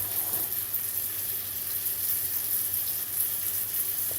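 Butter and flour roux sizzling steadily in a pan while being stirred for steak gravy, a continuous close hiss with no talking.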